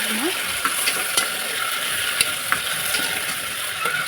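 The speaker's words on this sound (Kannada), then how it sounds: "ತರಕಾರಿ ಹಾಕ್ಕೊಂಡು ಎಲ್ಲ ಸ್ವಲ್ಪ ಎಣ್ಣೆಯಲ್ಲಿ ಫ್ರೈ ಮಾಡ್ಕೊಳ್ಳೋಣ" Chopped vegetables frying in a little oil for a village-style kadle kaalu (black chickpea) sambar, a constant sizzle broken by scraping stirring strokes and small clicks of a spoon against the pan.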